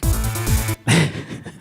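Short, punchy synthesized drum and bass pattern, a 303-style sequencer factory pattern, playing in a quick repeating rhythm, loud and close, with a brief gap partway through.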